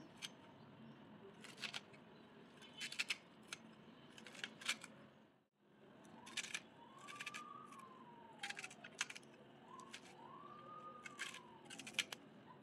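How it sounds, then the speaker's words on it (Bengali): Green amaranth leaves are finely chopped with a boti blade, giving repeated crisp cutting strokes in short clusters over a soft background hum, with a faint siren passing in the distance. "এবার এগুলোকে ভালো করে বটি দিয়ে কুচি কুচি করে কেটে নেওয়া হচ্ছে।"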